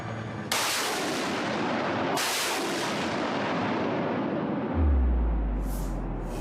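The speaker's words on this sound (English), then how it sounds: "This is one of the artillery units operating on the Pokrovsk front line in the Donetsk region" Heavy artillery guns fire on the Pokrovsk front line in Ukraine's Donetsk region, two loud booming blasts with long rumbling decay, then a deep low rumble toward the end.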